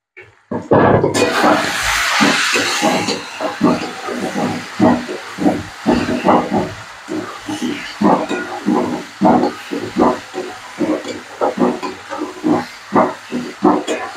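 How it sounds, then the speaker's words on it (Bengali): Ground spices, coriander and Kashmiri chili powder, hit hot oil for a ridge gourd curry with a loud hissing sizzle, then settle into a softer crackle broken by rhythmic stirring pulses. "মশলাটা একটু ভেজে নিই আগে।"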